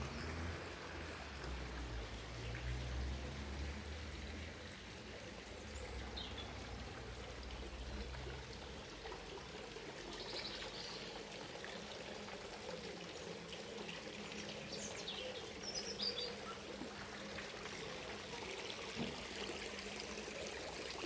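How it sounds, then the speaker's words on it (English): Spring water welling up from the ground flows and trickles steadily for a long stretch, a soft continuous burble with faint splashes, fairly quiet and without voices. "So we have water that's flowing through."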